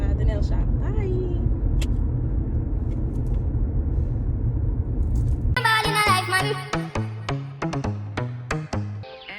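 Car driving with a low, steady road rumble for several seconds, then music takes over with a rhythmic beat.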